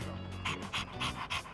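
A dog in Persona 3 Reload pants rapidly in rhythmic bursts of breathy huffs, close and steady over a low game music bed.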